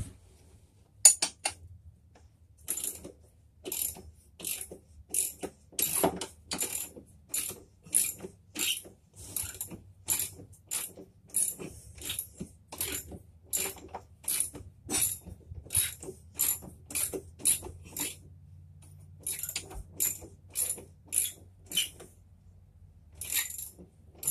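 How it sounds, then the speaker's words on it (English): A 3/4 inch ratchet wrench turning to remove a part while converting a TV into a three-wheeler, giving repeated quick clicking bursts in a steady rhythm over about twenty seconds, close and distinct with no talk. "So I got a 3/4 inch wrench."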